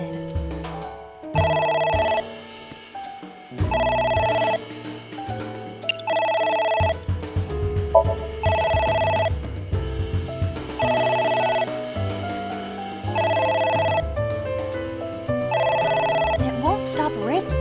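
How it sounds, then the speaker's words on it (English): Electronic telephone ringing in the video game AI: The Somnium Files, repeated bursts of a bright trilling ring in a steady rhythm over a low background game tone, loud and persistent. "It won't stop ringing."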